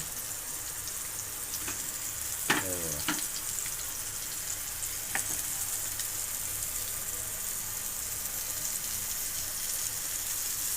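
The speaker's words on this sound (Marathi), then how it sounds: "भाजूक सुरुवात करतो आधी फटाफटाफट तेल पण चांगला तापला आहे मस्तपैकी" Coated prawns fry in hot oil on a flat tawa, giving a steady, close sizzle throughout, with a few sharp spatters and utensil clinks in the first few seconds.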